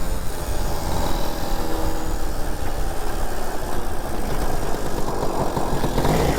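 A TVS 50 moped engine runs at a steady, loud idle on a night ride in the Kolli Hills, a continuous close mechanical putter with no talk over it.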